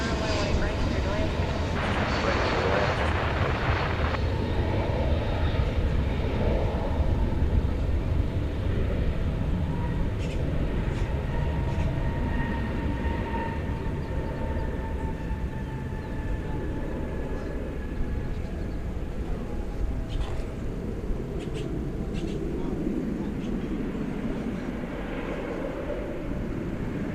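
An American Airlines airliner inbound from Amarillo lands on runway 18 right at DFW, a steady broadband jet roar with a faint whine that holds level throughout, heard at a distance with faint voices underneath.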